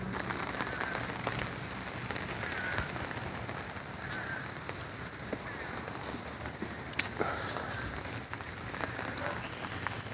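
Steady rain falling during Hurricane Irma in Palatka, Florida, a dense continuous patter on surfaces with scattered nearer drops, loud and even throughout, with faint speech in the background.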